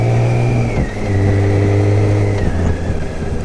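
A motorcycle engine runs loud and close, revving steadily, then its pitch drops and climbs again as the rider shifts gears with only a slight pull on the clutch lever.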